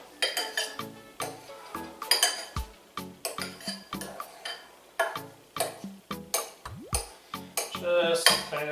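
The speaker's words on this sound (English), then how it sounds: "you take a butter knife and you just kind of cut it up" A butter knife cuts avocados into chunks in a bowl, making a quick run of sharp metallic clicks and taps against the dish, close and rhythmic, with a few soft scraping strokes.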